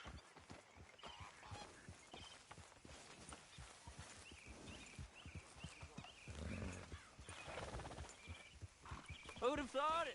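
Horse hooves clip-clop at a walking pace while riding in Red Dead Redemption 2, steady close strikes mixed under ongoing talk and game music, with a whinny near the end.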